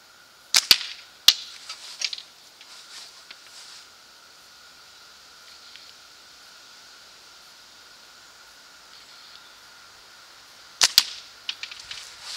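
Slingshot shots using a small ammo catapult pouch: a few sharp snapping cracks near the start, a long quiet stretch with faint background hiss, then another cluster of crisp snaps and smaller ticks near the end.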